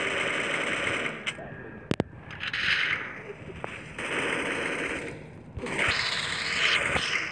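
Gunfire in the battle-royale game Free Fire: sharp single shots and a rapid burst cut through dense game noise and music-like drones, loud and close, with a few bright cracks standing out.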